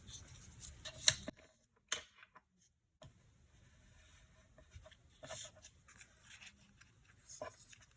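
Scored paper card pieces are folded by hand in a quiet room, with scattered soft creases, rustles and a few sharper crisp snaps.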